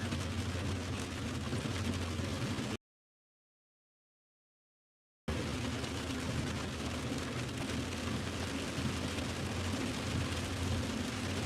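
Heavy rain drums steadily on a moving car, a dense, loud, constant wash that cuts out abruptly for a couple of seconds before resuming unchanged.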